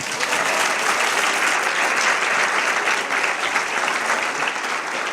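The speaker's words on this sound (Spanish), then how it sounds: "un aplauso para ellos" An audience at a law school presentation applauds for the faculty members, producing a loud, sustained and even burst of clapping with some crowd texture throughout.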